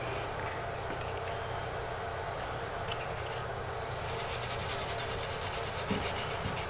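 Steady hand sanding rubs over a repair patch on a fiberglass bathtub crack, a continuous quiet rasping scrape heard alone at close range.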